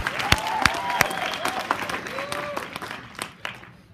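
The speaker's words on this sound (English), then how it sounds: "let's give him a big, huge round of applause" Audience applause for a speaker at a December 2015 team business meeting: a dense wash of clapping with sharp individual claps popping out, steady for several seconds before thinning toward the end.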